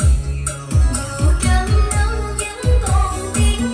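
Recorded music with a deep kick drum repeating in a steady beat under brighter instruments, played through a Technics SH-9033P equalizer switched on.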